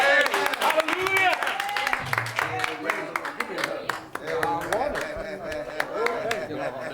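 A church congregation claps their hands in a lively, irregular burst of many close claps, layered under loud voices talking and calling out.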